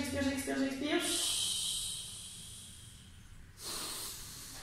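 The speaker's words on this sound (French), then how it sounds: "J'inspire et à l'expiration, j'expire." Breath drawn in and released during a Pilates warm-up, a soft airy hiss of exhalation in the second half and another near the end, following an earlier stretch of close voice.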